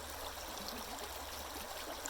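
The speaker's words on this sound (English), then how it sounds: "It's a tiny little waterfall." A tiny outdoor waterfall sends water trickling down in a soft, constant splashing rush, faint and steady, heard alone without voices.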